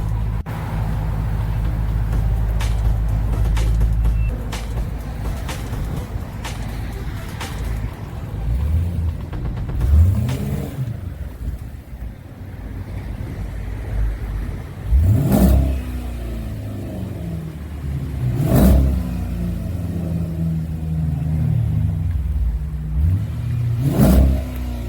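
A Dodge Durango with an X-pipe, Borla ProXS mufflers and mid-muffler delete idles with a deep steady rumble, then is revved hard several times in sharp rising bursts, loud and close throughout.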